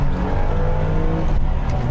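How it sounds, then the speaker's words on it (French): Loud BMW E24 M635CSi engine revving with quick throttle blips during heel-toe downshifts, harmonic engine tones, close and continuous, no voices. "Écoutez, talon pointe."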